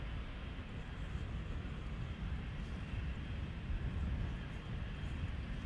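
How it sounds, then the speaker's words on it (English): A Cathay Pacific Airbus A350-1000 takes off at Amsterdam Schiphol, a steady, broad jet roar heard from a distance as a continuous rumble with no breaks. "The Cathay taking off in the background or Adler coming this way?"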